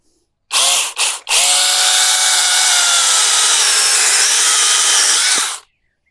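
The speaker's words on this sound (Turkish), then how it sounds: "İnanın daha ilk defa kesiyorum." Ferrino KHB-12 cordless battery saw, a 21-volt 400-watt cutting saw, revs up in two short bursts, then cuts steadily for about four seconds with a loud, sustained whine before stopping abruptly.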